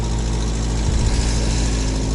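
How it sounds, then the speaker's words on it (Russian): A UAZ off-road vehicle's engine idles while warming up, a steady low, close rumble with a slight flutter midway and no talk. "Немножко грею двигатель."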